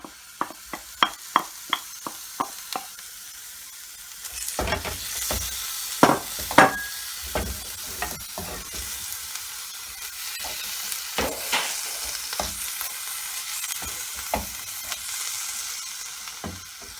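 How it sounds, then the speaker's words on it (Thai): Pork cooks in a pan, a series of sharp rhythmic scraping taps at first, then a rising sizzle with scattered stirring clanks, close and clear with no talk. "ลนหมูให้สุกก่อนนะคะ"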